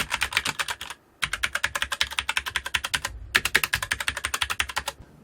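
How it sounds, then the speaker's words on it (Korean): Fast typing on a SteelSeries Apex 7 mechanical gaming keyboard, close and crisp, a rapid stream of clacky keystrokes in three bursts separated by two short pauses. "실제 소리를 들어보면 일반 엠브레이 키보드보다는 타이핑 소리가 좀 있고"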